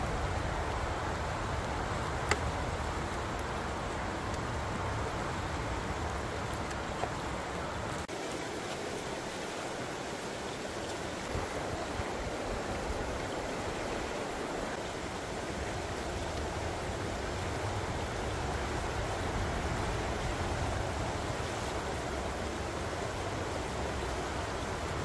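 Steady broadband rush of the McKenzie River flowing nearby, continuous and even throughout with no talking.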